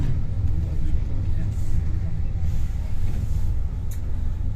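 Interior rumble of a MAZ-215 city bus on the move: a steady low engine and road drone fills the cabin, loud and continuous, with a voice talking over it.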